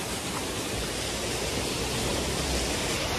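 A steady, dense roar of a waterfall on the road to Kalpa in Spiti fills the whole clip, a continuous rushing wash with no breaks or voices.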